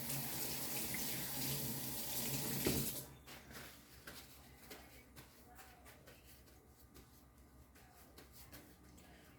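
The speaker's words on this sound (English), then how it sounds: "Let me rinse my hands." Kitchen tap running water to rinse hands while making salmon cakes, a steady close hiss for about three seconds before shutting off, followed by quiet handling sounds.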